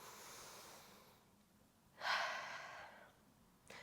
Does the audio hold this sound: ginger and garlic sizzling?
no